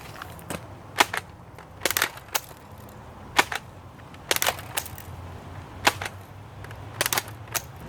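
A Nerf Vortex Diatron disc blaster fires, giving a quick series of sharp snapping cracks in small clusters across several seconds, close and fairly loud over a quiet background with no talk.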